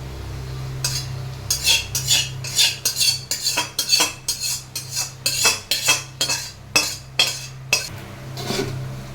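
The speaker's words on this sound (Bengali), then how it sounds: "ভালো করে চিনিটা আর ভাজাটা মিক্স করে নেবে।" A metal spoon scrapes and clinks against a large bowl while fried rice is mixed with sugar and fried bits, about a dozen rhythmic, close strokes with short pauses between.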